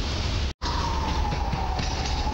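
Train noise at Warszawa Zachodnia station as a passenger train from Skierniewice and a WKD unit pass, a steady loud rumble with a drawn-out tonal whine and a brief dropout.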